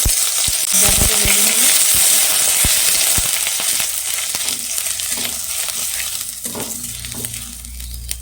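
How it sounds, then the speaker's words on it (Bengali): A little ginger frying in oil with five-spice seeds, dried red chili and bay leaf, a steady close sizzle broken by sharp metallic knocks and stirring scrapes early on, easing down later. "আদাটা ভাজা হয়েছে এখন দিয়ে দেবো মশলা গোলা মশলা"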